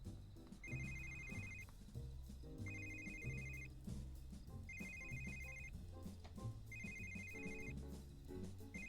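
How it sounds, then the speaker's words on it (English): A phone rings in The Sims 3 with a repeating electronic ringtone, four evenly spaced bursts over a steady musical background, fairly quiet and with no one talking. "her phone is ringing"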